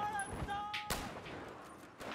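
Battlefield 4 gunfire pops in a few sharp, sparse shots amid game sounds, with a loud crack near the middle, somewhat quiet overall.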